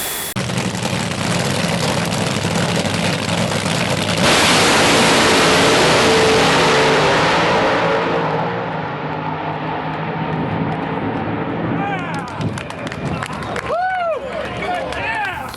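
A funny car or dragster engine roars under dyno load, a loud sustained broadband howl that swells and then eases off toward the end, with a short whining sweep near the finish.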